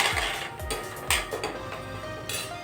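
Spices, green chillies, coriander-cumin powder and a pinch of turmeric stirred in a metal cooking pan, with repeated clinking scrapes and taps of a spoon against the pan in an uneven rhythm, close and fairly loud.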